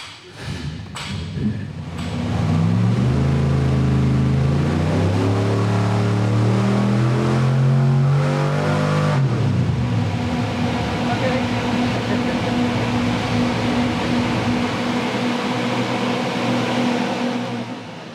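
A 383 small block Chevy V8 runs and revs, its tone climbing and falling through a few throttle blips, then settles into a loud steady idle with a rough, uneven note.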